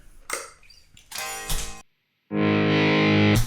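Heavy distorted rhythm guitar through a Line 6 DT25 tube combo on its plexi voice with a Mosky clone pedal: choppy chords for nearly two seconds, a short silence, then one loud sustained chord ringing on its own.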